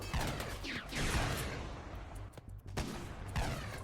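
Gunfire from a RimWorld battle, a series of close shots and short bursts in irregular clusters with sharp cracks and brief pauses between volleys.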